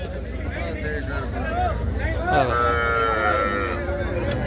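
Buffalo moo at a busy Dabwali livestock market, several drawn-out bellows close by over constant crowd babble and chatter.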